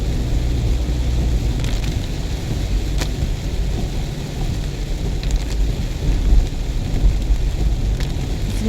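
Heavy rain pours steadily, loud and close, during a trip through Bengkayang, with a low rumble of thunder underneath and a few sharper cracks, with no voices.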